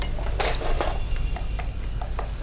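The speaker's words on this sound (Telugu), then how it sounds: "ఇది కూడా మనకి కొంచెం ఫ్రై అవ్వాలి కాబట్టి మంచిగా నిదానంగా ఫ్రై చేసుకుందాము" Peas fry slowly in a pan for aloo chaat. A close, gentle sizzle carries light stirring clicks and scrapes, with no speech.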